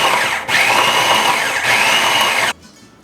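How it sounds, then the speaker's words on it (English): Food processor pulsing a rough chop of mixed vegetables, a loud steady whirring motor in two long bursts with a brief pause between, then cutting off to quiet near the end. "I'm going to add that mixture of vegetables that I just chopped up in the food processor"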